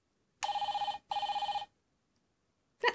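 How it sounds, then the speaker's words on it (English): A toy messenger plays a telephone ring: two bursts of rapid trilling electronic bell, each about a second long with a brief gap between, clear and close, then a click as it ends. "That's a telephone ringing."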